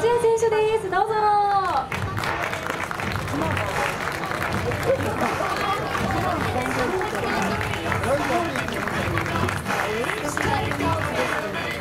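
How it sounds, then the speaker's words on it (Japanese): An audience at a team rider talk show during the Kyushu Motorcycle Festa 2018 at Autopolis breaks into sustained, dense applause and cheering after a host's brief announcement. The clapping continues steadily, with crowd chatter mixed in. "皆様拍手でお迎えください"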